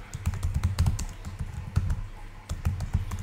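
Typing on a computer keyboard while building an income dashboard in Excel: quick, close keystrokes in an irregular patter with a few heavier taps, heard on their own without any talk.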